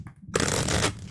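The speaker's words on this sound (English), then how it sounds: "I'll shuffle them up one more time." Tarot cards shuffled by hand in a single short riffling burst of papery rustle, close and fairly loud, with no talking.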